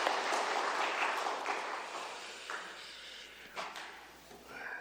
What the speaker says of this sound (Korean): 우리 한번 다 같이 박수로 다 귀한 분들 감사하겠습니다.